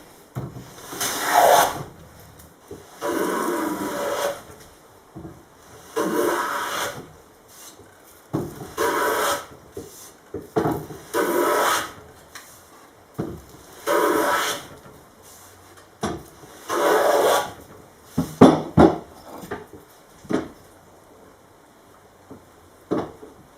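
A Stanley #48 tongue-and-groove hand plane cuts along wooden bead board paneling in about a dozen long, rasping strokes, each a loud swish with brief pauses between, steady and close up.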